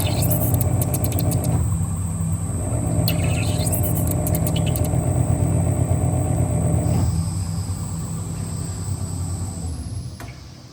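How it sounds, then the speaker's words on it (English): A hydraulic test bench runs a Ferrari F430 Scuderia suspension lift system, giving a loud, continuous machine hum and rumble with shifting tones and a few high squeaks, easing slightly toward the end. "First step, we will test the lift system on our hydraulic test bench."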